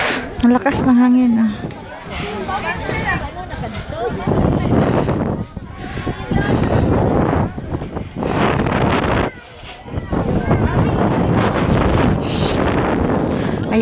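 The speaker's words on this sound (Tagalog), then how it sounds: "Ang lakas ng hangin" Strong wind buffets the microphone in loud, roaring gusts while people talk nearby, the blustery noise rising and dipping throughout.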